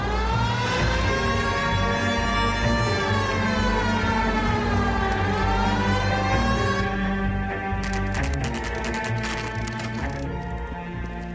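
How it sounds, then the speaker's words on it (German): A police car siren in the video game L.A. Noire wails continuously, loud and close, its pitch rising and falling, with clattering noises near the end. "Jetzt da fahre ich wieder mit Tatütata, weil dennoch ist es ja noch ein Mordfall."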